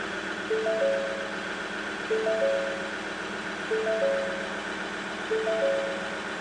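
A Ford Ranger with a 3.2 litre engine idles steadily with a low, even drone, while a short electronic chime repeats about every second and a half over it.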